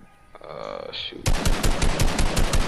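Rapid automatic gunfire in a video game, starting abruptly after a quieter opening and continuing as a loud, fast train of closely spaced shots through the rest of the moment.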